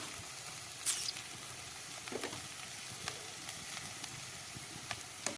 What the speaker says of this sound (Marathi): हे चांगलं भाजून घेऊया आपण थोडं मीठ टाकून घेऊया